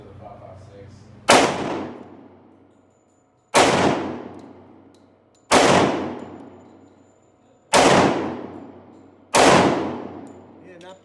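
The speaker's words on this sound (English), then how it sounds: "All right, Buffalo bore. Sig P220, 10 millimeter." Five loud, sharp gunshots from a Sig P220 10mm pistol firing Buffalo Bore ammunition, spaced about two seconds apart outdoors, each with a decaying echo tail.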